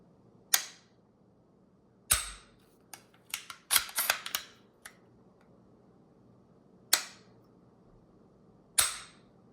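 Sharp mechanical clicks from a B&T Elftmann trigger breaking on dry fire come in scattered single snaps, with one quick cluster of several clicks partway through. The snaps are close and crisp against a quiet background.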